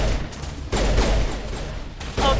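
Gunfire in the Mass Effect Legendary Edition video game: dense, sustained bursts of shots crackling loudly throughout, with a brief lull before the firing resumes.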